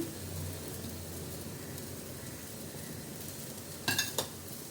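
Elephant foot yam with freshly grated coconut is stirred in coconut oil in a pan: a quiet low sizzle with soft scraping, then a few brief clinks of the spoon near the end.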